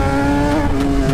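A Kawasaki ZX-10R motorcycle engine holds a loud, steady tonal roar while being ridden, close and continuous with no voices.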